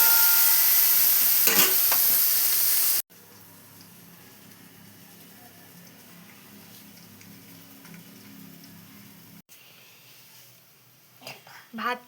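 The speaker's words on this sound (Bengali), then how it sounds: "মোটামুটি ভাজা হয়ে এসছে, আর একটু হলে হয়ে যাবে।" Green peas fry in a pan and are stirred: a loud sizzle at first, then a quieter crackle with light scraping, while a soft voice is heard at times.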